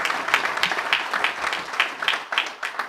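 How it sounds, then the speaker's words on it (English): Conference audience applauding after a speaker's acknowledgement, a moderate, fairly even round of clapping heard at some distance in a large hall. "So I would like to appreciate them and give them a round of applause."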